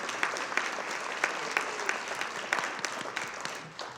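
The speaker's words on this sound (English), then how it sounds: "Could you please join me in another round of applause to thank Chartwells for our delicious brunch" Seated guests at a university alumni awards brunch give a round of applause, steady crowd clapping with distinct sharp claps popping through, tapering slightly at the close.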